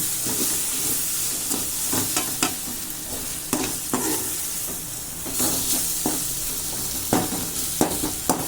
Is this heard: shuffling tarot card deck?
no